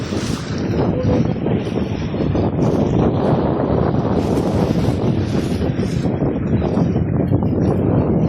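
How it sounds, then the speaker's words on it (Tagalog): Strong wind buffets the microphone at sea off Oman while fishing, a loud, continuous low roar, with faint water and boat noise underneath. "Kaya nga, malakas ang hangin."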